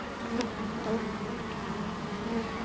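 Young honeybees crawl over the combs of an opened hive, giving a dense, continuous buzzing hum that stays steady and close throughout.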